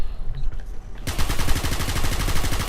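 A Vandal rifle firing in Valorant: after a second of low ambience, a loud, rapid, evenly paced stream of gunshots bursts in and continues without a break to the end.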